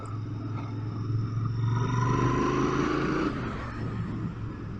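Royal Enfield Interceptor 650 motorcycle engine ridden in too low a gear, a steady low throbbing drone that swells slightly mid-ride then settles, heard close with some wind and road noise.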